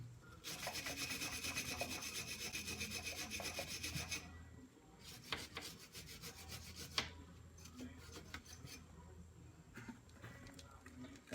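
A brush scrubs hard against a brake line fitting on a 2000 Chevy Cavalier during master cylinder replacement, making faint, raspy rubbing strokes in bursts with short pauses between them.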